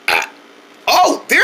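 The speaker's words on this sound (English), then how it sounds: "Wow, I never heard a baby burp that loud before." Baby letting out loud, close burps: a short one at the start, then a longer, throaty burp and another brief one at the end, separated by near silence.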